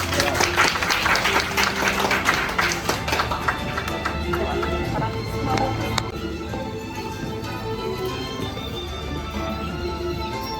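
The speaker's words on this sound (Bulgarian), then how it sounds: "Аплодисменти за Алекс." Audience applause at a school graduation celebration: dense, continuous clapping from a crowd that is strongest at first and gradually thins out over about ten seconds.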